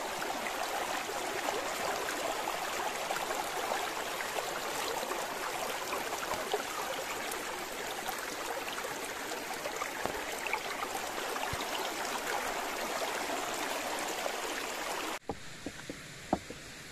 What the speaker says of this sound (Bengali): পাথরের ভিতর দিক থেকে জলটা আসছে, তার আওয়াজটা একটু শোনো।